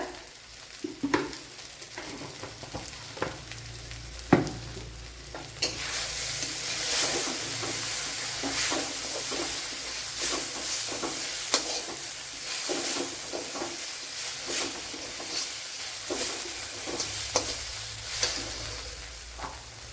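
An egg masala base with coriander powder fries in a pan, a bright steady sizzle swelling after a few seconds, punctuated throughout by scraping and knocking of a spoon as it is stirred.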